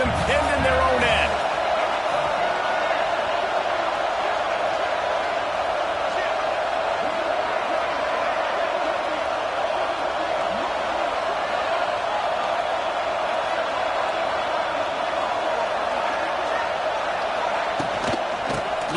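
A packed Ole Miss football stadium roars steadily for its defense as the opponent is pinned deep in their own end, a dense, loud, unbroken wall of crowd noise with a commentator's voice over it.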